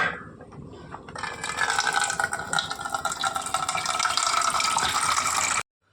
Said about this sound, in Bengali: তো জলটাকে ভরলাম